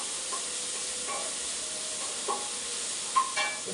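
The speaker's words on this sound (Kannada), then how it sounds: "ಟೊಮ್ಯಾಟೊ, ಲೈಟಾಗಿ ಫ್ರೈ ಮಾಡ್ತಾ ಇದ್ದೇನೆ." Tomato pieces fry lightly in a pan for chicken fried rice, a soft steady sizzle with occasional scrapes and clinks of stirring against the pan, close and fairly quiet.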